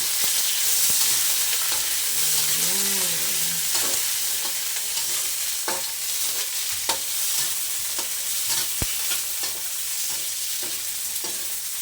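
Okra sautéing in a pan gives a steady, close hiss and sizzle throughout, broken by scattered scraping stirs and small clicks of a utensil against the pan.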